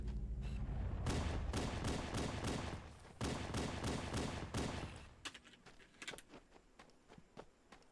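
Dense bursts of gunfire crackle through a Halo: Combat Evolved firefight on Legendary, with rapid loud volleys in the first five seconds giving way to sparser, scattered single shots and impacts.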